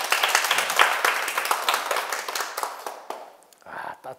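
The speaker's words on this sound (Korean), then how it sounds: "자, 큰 박수 부탁드립니다." Audience applause at a Sunday spiritual lecture, a dense wash of many hands clapping steadily for about three seconds before thinning out and trailing off, with a brief voice near the end.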